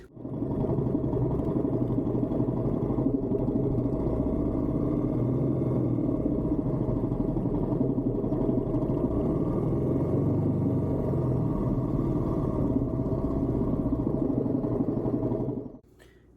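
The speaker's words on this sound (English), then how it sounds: "The engine sounds very clunky and what I describe as clankety." A Royal Enfield motorcycle engine idles with a steady, rough, lumpy, clanky rumble for several seconds, close up, then cuts off abruptly.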